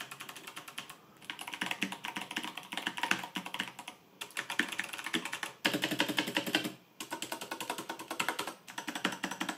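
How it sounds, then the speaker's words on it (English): Fast typing on an 8Bitdo mechanical keyboard fitted with unlubed KO Whitebox V1 switches, close crisp clacky keystrokes in bursts separated by brief pauses, no talking. "So people, these are KO Whitebox V1 switches."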